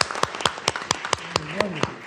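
Board meeting attendees clap in a short burst of applause, several hands at a brisk, slightly uneven rhythm, with a voice speaking briefly underneath.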